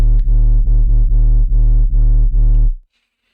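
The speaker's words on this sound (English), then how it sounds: "I use a different kind of distortion called Mangler." Heavy synth sub bass run through Mangler distortion, OTT compression and a bass boost pounds in loud, thick rhythmic notes of uneven length, then cuts off abruptly into near silence.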